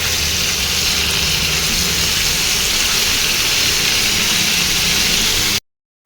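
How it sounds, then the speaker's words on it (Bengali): Jackfruit pieces frying in a pan with hot oil, a steady close broadband sizzle that holds evenly for about five and a half seconds before cutting to silence. "এঁচোড়টা ভাজা হচ্ছে"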